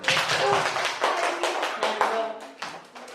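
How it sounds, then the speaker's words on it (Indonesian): A classroom of students claps their hands together in a burst of quick, close applause, with voices mixed in among the claps. "Tepuk tangan."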